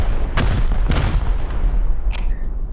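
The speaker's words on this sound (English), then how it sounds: "hit that sheet metal foundation. I fall follow my rocket" An HV rocket in the game Rust bursts against a sheet metal foundation, with two sharp loud booms close together and a brief metallic rattle trailing after, over steady rumbling background noise.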